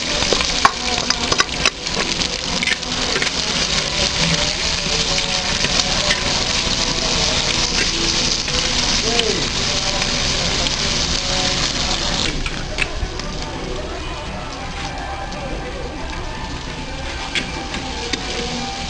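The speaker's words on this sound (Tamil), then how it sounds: "வெங்காயம் நல்லா வதங்கிருச்சு" Onions sautéing in a clay pot for a fish curry, a loud, dense, continuous sizzle and crackle close by, steady throughout with occasional clicks of stirring and a slight drop in intensity toward the end.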